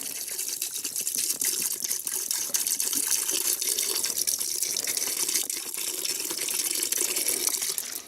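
Water pours steadily into a pot for campfire cooking, a continuous soft splashing gush that holds at an even level for several seconds with no talking.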